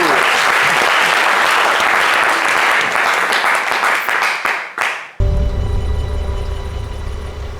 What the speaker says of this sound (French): On applaudit la speakerine du jour.